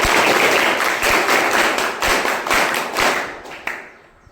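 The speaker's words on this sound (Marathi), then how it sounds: "जोरदार टाळ्या वाजवा" Students and guests clapping at a school event in a rural secondary school, a few seconds of loud, dense applause with some sharp individual claps, fading out at the end.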